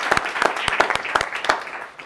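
An audience claps for a first-time speaker at a data-driven decision making talk, steady irregular hand claps fading out over about two seconds, with no voices over them.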